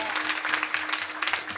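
Applause from an audience at a kirtan gathering in Shetphale, greeting a woman kirtan singer, a dense, steady patter of clapping lasting briefly.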